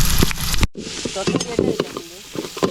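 Curry leaves and onion hit hot oil and spit and sizzle loudly, followed by brief stirring with crackling bursts close by.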